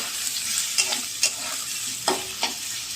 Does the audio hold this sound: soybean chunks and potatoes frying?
yes